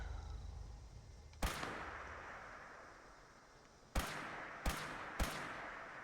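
Four separate gunshots from a gun in Fallout 76, a single sharp blast followed after a pause by three in quick succession, each with a booming tail that fades into the background.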